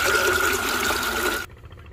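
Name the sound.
water poured into lassi for a goat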